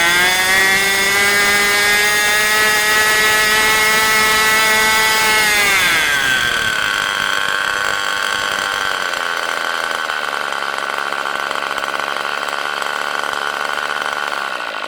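A Tower Pro 46 model engine screams at high RPM, near 13,000, its loud steady whine sweeping upward in pitch before settling at a constant high-pitched drone throughout.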